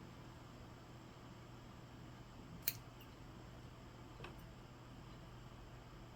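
Scissors trimming a jade bonsai tree give one crisp snip, with a second fainter snip shortly after, set against a quiet steady hum.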